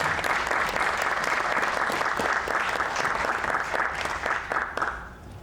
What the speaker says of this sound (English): Can we have another round of applause for Rubber Dolphin?